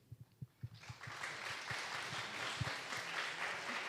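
A live audience claps for a performer at a pitch event, a few scattered claps building into steady, fairly quiet applause from a room full of hands.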